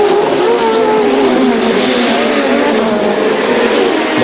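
GT race cars including Ferrari 550 and 575, BMW M3 GTR, Saleen S7-R and Porsche at the 24 Hours of Spa 2004, a loud continuous engine roar at full throttle with no pauses.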